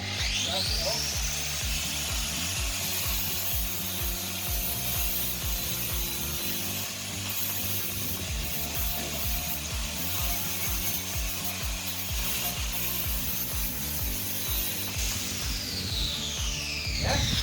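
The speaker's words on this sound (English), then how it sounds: "about to teach me how to polish with the grinder" An angle grinder run for polishing on a van build, giving a loud, continuous abrasive whine and rubbing grind that holds steady for the whole stretch with small shifts in pitch as the disc is pressed on.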